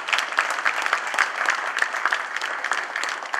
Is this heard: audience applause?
yes